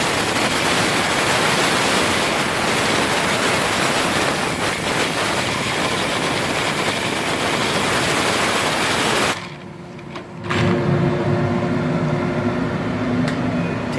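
A vacuum air hose drawing dust off an autoharp button in a factory setting gives a loud, steady broadband hiss and rush. It drops out for about a second before resuming just as strongly.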